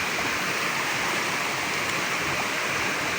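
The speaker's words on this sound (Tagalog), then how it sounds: "Puro bukal po din ito sa gilid ng bundok." Clear spring water flowing from a source on a mountainside, a steady, full rushing wash with no breaks, close and alone without any voices.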